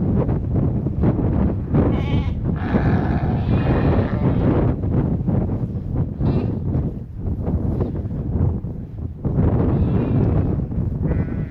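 Lambs bleating in a pen on a snowy early-spring farm, several close, loud overlapping bleats in bursts, with wind buffeting the microphone throughout.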